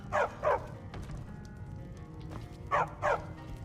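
A dog in Skyrim gives two pairs of quick barks, each pair a fast double bark, with a short gap between the pairs, fairly close, over faint background ambience and no talking.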